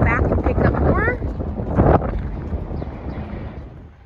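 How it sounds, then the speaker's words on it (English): Strong wind roars and buffets the microphone throughout, loud and gusty, easing slightly toward the end. "It's super windy here."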